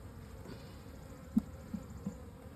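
Honey bees hum faintly and steadily around a hive outdoors, a low continuous buzz with a few brief louder passes close by.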